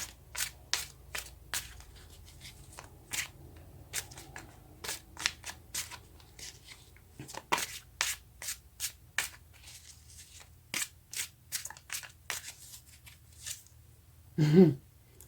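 Tarot cards riffled and handled in a quiet room, a long run of crisp, rapid flutters and soft snaps at close range, ending in a brief louder rustle.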